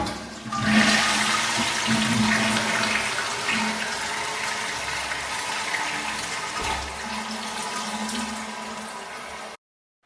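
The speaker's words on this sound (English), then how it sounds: "The answer is flushing toilet." A toilet flushes with a loud rush of water that swirls and drains, then settles into a steady hiss of the tank refilling, close and without talk.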